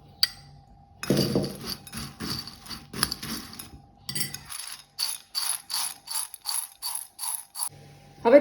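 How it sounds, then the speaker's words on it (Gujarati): Dry fried cheeseling snacks tossed with spice masala in a container, giving repeated clinking, rattling bursts in an uneven rhythm, close and fairly loud, with a brief pause midway. "એને આપણે ચીઝિંગમાં મિક્સ કરી દઈશું"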